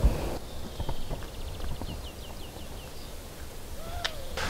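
Horses' hooves clip-clop steadily on a training arena at an equestrian riding club in Dijon, moderately near, with faint bird chirps and a whistle-like call in the background and no talking.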